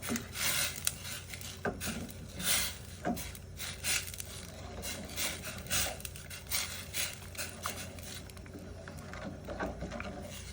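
Scraping and clinking of a utensil stirring Thai curry paste and shrimp paste into coconut milk in a pot, irregular strokes repeating steadily at moderate volume close by.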